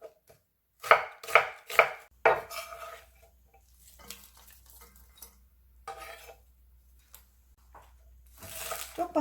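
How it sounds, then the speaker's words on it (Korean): Half an onion sliced with a knife on a board: a quick run of crisp, sharp chops at the start, then quieter scattered cuts and soft handling noises with a low hum underneath. "양파 반 개 썰어줍니다"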